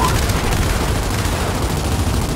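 Dense, nonstop rapid gunfire from a Gears 5 firefight against enemies, a loud continuous barrage of overlapping shots with no pauses across the whole stretch.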